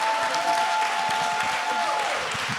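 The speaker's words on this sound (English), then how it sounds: "Round of applause" Brief burst of dense audience applause and crowd noise at a startup demo day event, loud and continuous for a couple of seconds with a faint tone running underneath.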